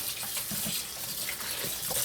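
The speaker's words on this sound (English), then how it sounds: "So what I'm gonna do, I'm gonna rinse it off again" Tap water runs steadily into a kitchen sink as raw chicken thighs are rinsed under the stream, a close, continuous splashing hiss with small irregular splatters.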